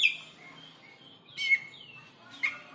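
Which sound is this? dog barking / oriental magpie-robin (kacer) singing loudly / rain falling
oriental magpie-robin (kacer) singing loudly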